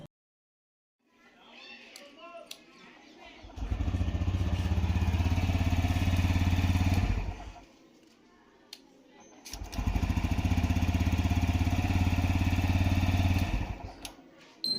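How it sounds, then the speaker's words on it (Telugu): A TVS Rider BS6 motorcycle engine idles loudly after engine repair in two long stretches separated by a brief quiet gap, a steady thumping beat with faint sounds before it starts. "బైక్ మొత్తం స్టార్ట్ చేసిన తర్వాత బీటింగ్ ఎలా ఉంది వినండి"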